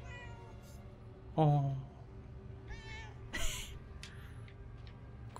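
A cat in the video game Murdered: Soul Suspect lets out a loud, clear meow, then a few quieter meows and game sounds follow, with a brief spoken interjection.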